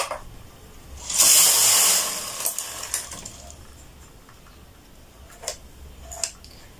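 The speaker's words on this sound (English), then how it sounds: "So we pull all the needles out into the working position." Knitting machine needles pulled out into working position, a burst of rapid metallic scraping followed by scattered light clicks and ticks, close and fairly quiet.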